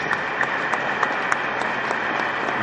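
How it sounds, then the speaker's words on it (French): An audience claps steadily through a short burst of applause, with many hands blending into an even patter and no voices standing out. "puissions-nous l'applaudir et applaudir les chefs qui lui ont fait confiance"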